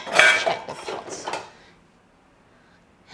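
Pots and dishes clatter in a burst of close, bright knocks over about a second and a half as they are unloaded from a Viomi dishwasher, then the sound fades to near silence.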